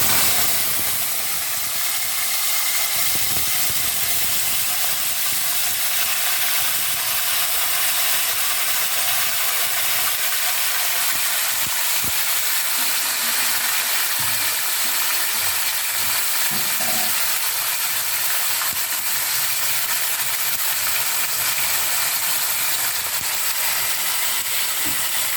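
Eggplant (brinjal) sizzles and fries in a pan over a low gas flame, with a steady broadband crackle throughout and occasional scraping clicks as it is stirred. No voices are heard.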